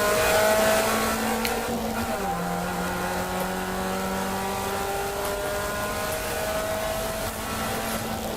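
Race car engine held hard on the throttle through a corner at Brands Hatch in a Trackday Trophy race, a sustained loud onboard drone with steady pitch, one downward shift partway through, continuing unbroken with no talk.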